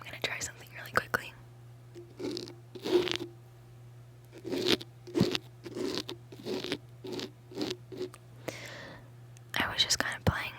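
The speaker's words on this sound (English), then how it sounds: "I was just kind of playing with the mic with my Apple Pencil" An Apple Pencil tapping and rubbing against a microphone gives a series of close, soft scratchy taps and brushing strokes in irregular bursts, with faint whispering mixed in over a steady low hum.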